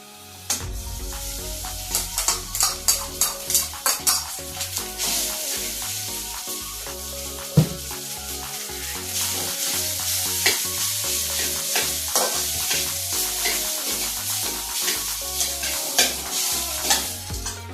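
Rice is tipped into a hot pan and stir-fried, sizzling loudly throughout while a utensil scrapes and taps the pan in repeated rhythmic strokes, with no talking.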